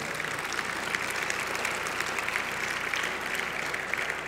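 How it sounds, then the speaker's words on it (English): Gala audience at the ChamberWest awards breaking into sustained applause, a dense, even roar of many hands clapping throughout with no break. "One more round of applause, please, for Max Tech"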